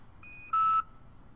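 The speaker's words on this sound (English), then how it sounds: "If the bind is successful, you will get a single beep from the scanner" One short, clean electronic beep from a Datalogic PowerScan PM8500 barcode scanner, signalling a successful pairing, sounds alone against quiet background hiss.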